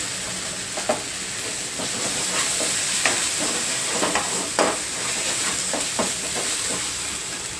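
Ginger garlic paste frying in oil for a capsicum curry, with a steady hissing sizzle and repeated scraping stirs of a spoon in the pan, close and with no talking.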